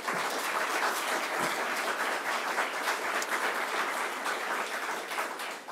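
An audience at a political event applauds, a dense and steady roar of many clapping hands, fairly loud and continuous throughout, with no speech.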